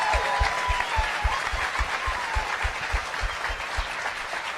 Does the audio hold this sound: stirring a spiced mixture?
no